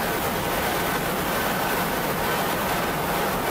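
Several offshore racing boats with 2.5 EFI outboard engines run steadily at an offshore grand prix, a continuous loud broadband roar with no breaks and no talk over it.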